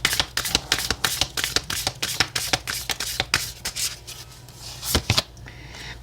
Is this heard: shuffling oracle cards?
yes